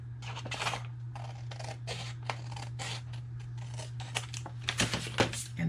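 Scissors or a blade cut through a cardboard box flap while making a custom box, giving a run of crisp, scratchy snips and crinkles over a steady low hum, close and fairly quiet, with no talking.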